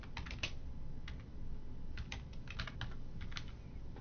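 Computer keyboard keys click in short, uneven bursts while text is entered with a Photoshop type tool, close and moderately quiet over a soft background hiss, with no voices.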